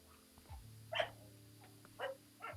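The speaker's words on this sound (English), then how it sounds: "You let the doggo cry it out too." A puppy whimpers and lets out a few short, faint barks spaced across a quiet indoor moment, with no voices.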